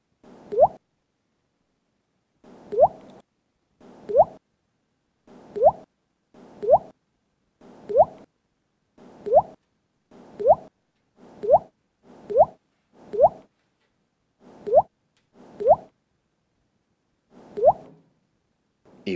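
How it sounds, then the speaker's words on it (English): Water drops fall one at a time in a quiet room, each a clear, close plop with a rising pitch, repeating at an uneven pace about once a second, with silence between them. "I heard the sound of a water drop."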